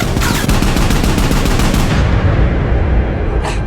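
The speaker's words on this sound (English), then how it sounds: "Soon a gunshot came from behind." A rapid burst of gunshots fires loud and close for about two seconds, then cuts off into a dull rumbling tail.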